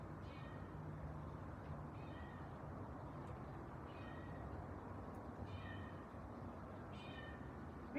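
Several short cat meows at feeding time repeat at roughly even intervals over a steady low rumble of background noise, with no talking.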